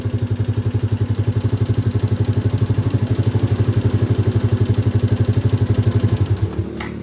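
A motorcycle engine with a suspected charging or stator fault idles in a steady, rapid chugging rhythm close by, then sputters and cuts out near the end, leaving near silence.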